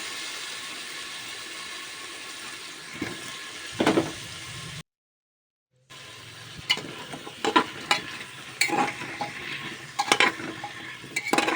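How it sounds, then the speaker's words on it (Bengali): Potatoes are stir-fried with spices and nigella seeds in a pan for a vegetarian potato curry. A spatula scrapes and knocks against the pan over a soft sizzle, with a short silent gap partway through. "তো আলুগুলো ওর মধ্যে দিয়ে দিচ্ছি, দিয়ে বেশ ভালোভাবে কষিয়ে নিই"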